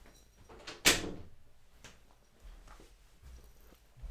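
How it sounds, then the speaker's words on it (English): A door in a room swings shut with one sharp thud near the start, followed by quiet, faint shuffling movement. "let me close my door, man"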